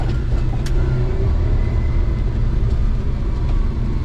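A Suzuki Carry kei truck's engine rumbles steadily at low speed in four-wheel drive, heard up close with no talking.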